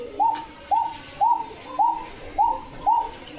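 A pigeon coos repeatedly at a loft in Bogura, seven steady rhythmic coos in quick succession, close and clear with no talking.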